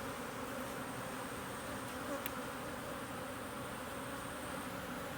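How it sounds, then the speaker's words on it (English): Honey bees hum around a lightly populated nuc hive during a split, a steady close swarm drone that holds evenly throughout with no voices. "So this bee hive here this Nuc has a fewer bees in it right now"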